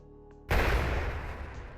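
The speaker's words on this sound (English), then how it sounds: "Explosion sound here." Brief quiet, then one sudden loud boom of a horror game explosion sound effect that rumbles and slowly decays over about a second.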